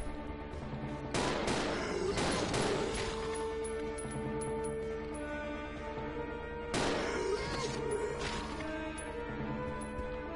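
Gunfire in the Resident Evil Zero video game, two loud bursts of shots with crashing impacts over a continuous game soundtrack drone, the first burst early and the second about halfway through.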